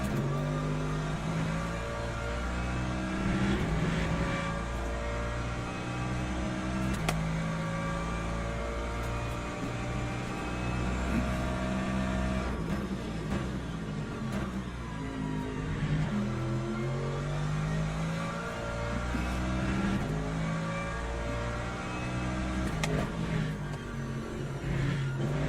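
Race car engine in the sim racing game Le Mans Ultimate, a steady, droning in-car engine note whose pitch climbs and falls with throttle through corners, continuous and close for the whole stretch with no talk.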